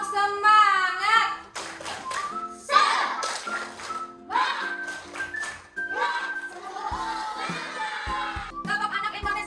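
A group of children and adults in an Indonesian classroom activity performs a rhythmic spirit clap, bursts of patterned hand claps mixed with chanting voices and a whistle-like tone, lively and close.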